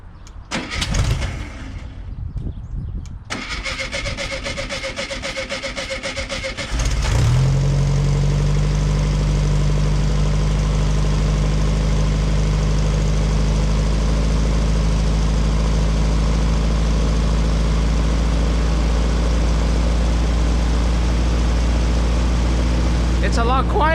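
Car engine with a new fuel system cranking briefly, then catching and settling into a steady, deep idle heard close up for the rest of the clip.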